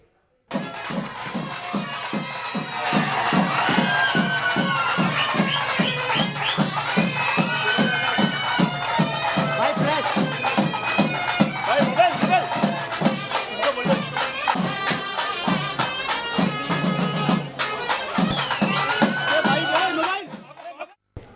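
A crowd in Delhi cheers and chants rhythmically to welcome Chief Minister Stalin, with a steady pulsing beat of clapping or drumming under loud, excited voices that continue for about twenty seconds.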